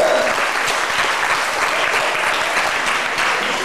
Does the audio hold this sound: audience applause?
yes